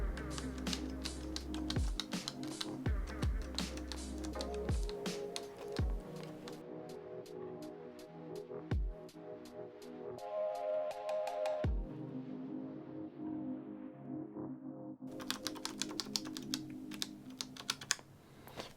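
Steady close typing on a Monsgeek M5 mechanical keyboard fitted with Gateron North Pole tactile switches, keycaps not yet installed; rapid clacking keystrokes with a few heavier thocks, running continuously throughout.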